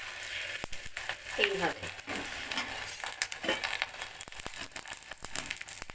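Egg frying in oil in a frying pan, a soft steady crackle and sizzle running throughout with faint clinks of utensils, while a person speaks briefly.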